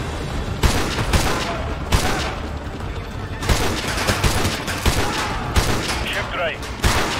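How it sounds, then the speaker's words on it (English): Bursts of automatic rifle fire crackle in the Call of Duty: Modern Warfare 2 remastered campaign, several sharp volleys over a dense battle din. "I don't know who's shooting me."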